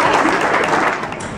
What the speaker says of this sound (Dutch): Rens Kramer, applaus.